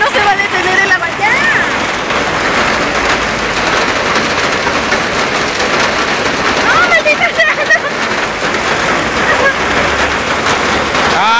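Hail falls in Alameda Central park in Mexico City, a dense, steady patter of stones striking the ground and surfaces all around, with people talking over it.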